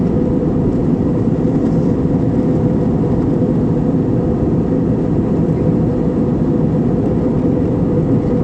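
An airplane in flight through clouds fills the cabin with a steady, loud, unbroken engine and air roar that stays even throughout, with no voices.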